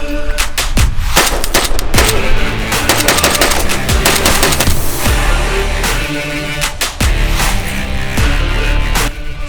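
An inexpensive AK-47 rifle dumps a full magazine in rapid, loud, close bursts of automatic fire, shots cracking in quick succession with brief gaps between strings.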